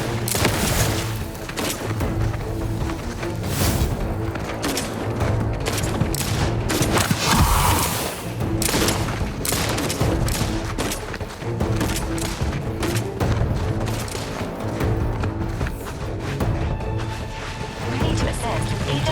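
Gunfire in the sci-fi shooter Outer Worlds 2, with dense bursts of shots and heavy booms running nonstop over a low game soundtrack, partly under talk.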